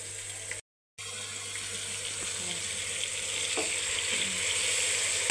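Marinated chicken coated in turmeric and masala sizzles steadily in hot oil for a Telangana-style curry. The frying hiss is continuous and close, broken by one brief dropout near the start, with faint stirring and no voices.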